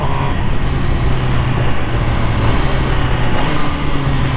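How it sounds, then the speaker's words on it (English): A 2020 MV Agusta Brutale 1000RR motorcycle engine drones loud and steady while being ridden, mixed with heavy wind rush over a constant, unbroken roar. "oh man, I'm riding a MV Brutale."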